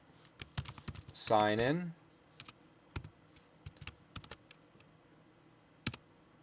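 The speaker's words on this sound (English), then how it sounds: "what you want to do is type in class" Computer keyboard typing code in a programming setup, quick scattered key clicks in irregular bursts, close and clear, with a brief stretch of speech near the start.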